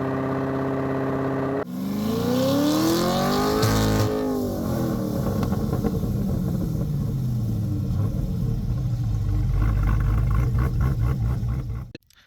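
A supercharged heads/cam Corvette C8 revs hard on a dyno and climbs in pitch, then holds at high rpm with a loud, sustained roar before cutting off abruptly.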